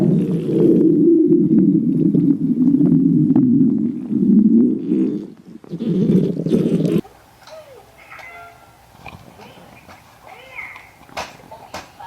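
Loud, low gurgling stomach growls churn continuously for several seconds, then give way to quieter, sparse rumbles and small squeaky bubbling sounds.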